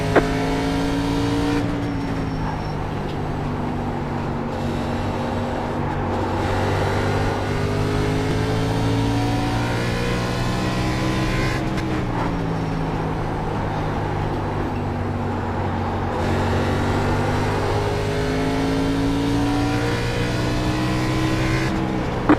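Race car engines roar steadily in an iRacing oval race at USA, loud sustained drone with rising and falling pitch as cars rev and pass, continuous throughout without talk.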